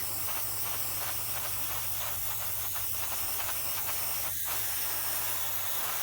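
Paint spray gun spraying a high-thinner black primer mix, a steady broadband hiss that runs continuously and loud throughout, with no talking.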